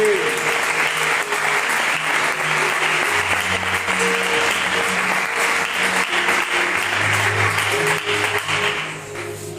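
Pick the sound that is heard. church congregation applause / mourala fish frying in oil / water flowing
church congregation applause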